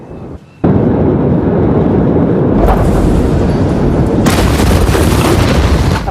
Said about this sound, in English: what appear to be fireworks going off before the massive explosion